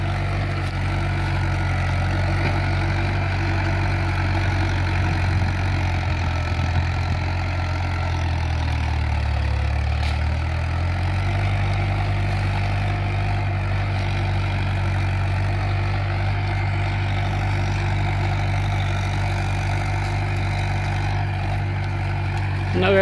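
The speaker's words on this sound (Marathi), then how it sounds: "ट्रॅक्टरचे आर पी एम कोणत्याही प्रकारे ड्रॉप होत नाही आहे, भरपूर जोर लावत आहे" An old-model Mahindra Sarpanch 475 DI tractor engine runs steadily with a deep, continuous low rumble that holds even under load. A voice talks over it throughout.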